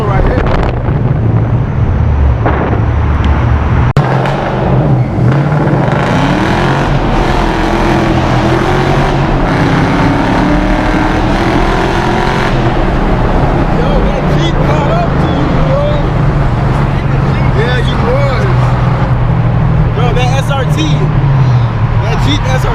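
A Jeep SRT and another car drag race through a tunnel. Loud, roaring engine and wind noise carries through the whole stretch, with rising and falling revs as gears change, and voices break in over the din.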